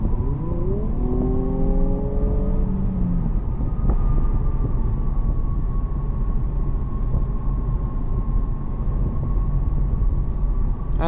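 A 2022 Infiniti Q60 Red Sport 400 accelerating on the road, engine note climbing through rising pitches over the first seconds, then settling into a steady cruising drone with a constant whine and loud road noise throughout.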